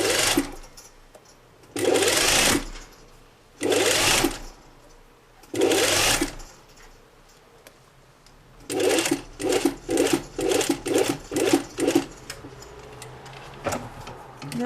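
A sewing machine stitches the seams of simple drawstring-waist trousers in bursts: four long steady runs, then a quick series of short stitching spurts near and clear, with quiet pauses between.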